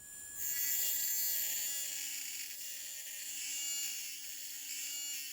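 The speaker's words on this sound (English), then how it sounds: "The sprue is cut with a diamond separating disc." A diamond separating disc cuts the sprue off a pressed Celtra ceramic restoration, giving a steady, loud high-pitched whine with a few faint tonal hums beneath it. The whine runs without a break for several seconds, and no one speaks.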